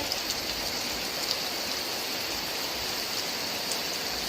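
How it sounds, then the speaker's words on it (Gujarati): Heavy rain pours steadily outside in the village of Moti Kathechi, heard from inside a room as a dense, continuous hiss with no break. "ખૂબ જ વરસાદ પડી રહ્યો છે"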